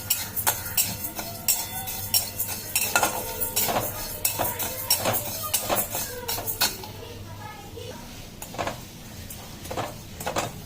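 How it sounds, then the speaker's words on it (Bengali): Sugar melting toward caramel in a dry wok over medium to low flame, stirred with repeated close scraping and clinking of a utensil against the metal in an uneven rhythm, with a low background hum. "চিনিটা গলতে আরম্ভ করেছে।"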